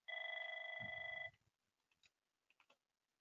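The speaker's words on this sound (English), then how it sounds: "my phone is ringing." A telephone rings with one steady electronic trill lasting just over a second, followed by quiet faint clicks and soft taps in an otherwise still room.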